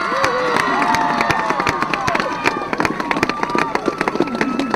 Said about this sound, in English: Big round of applause, please, on my behalf for Epsom Girls Grammar